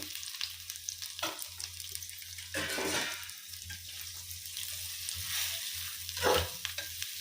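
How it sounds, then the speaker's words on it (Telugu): Turmeric-coated pieces fry in oil over a medium flame, giving a steady crackling sizzle with a few louder bursts as they are stirred; no one speaks. "పసుపు వేసి ఈ ముక్కలు ఇందులో వేసి ఫ్రై చేద్దాము"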